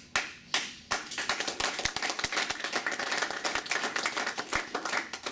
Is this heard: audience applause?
yes